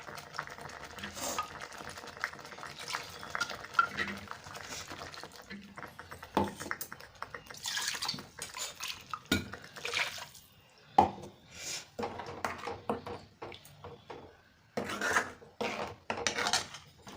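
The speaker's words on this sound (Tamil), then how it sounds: "கொஞ்சம் தண்ணி ஊற்றி வேக வச்சிடலாம்" Water poured into a pan of egg curry made with broken eggs, with liquid trickling and utensil clinks against the pan, fairly quiet under a person talking.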